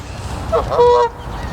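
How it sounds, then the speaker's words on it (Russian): A greylag goose gives a loud, nasal honk, a short burst of calls close by, with low background rumble and no speech. "Серьезно, серый гусь."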